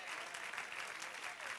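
A church congregation applauds, a dense, steady wash of many hands clapping at some distance, fairly quiet and sustained for a moment.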